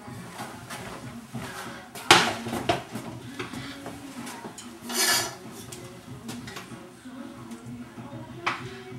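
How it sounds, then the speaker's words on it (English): Meatballs dropped into a pot of gravy: scattered soft thuds, wet plops and scraping against the pot, close by, with a couple of louder knocks. "I'm going to put all of these in the pot, but two."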